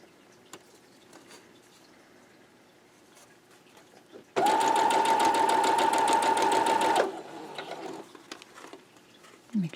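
A sewing machine stitches a quilt block in one loud, steady mechanical whir lasting a few seconds, with quiet handling noises before and after.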